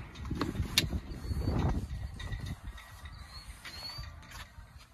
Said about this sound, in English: Power sliding rear window.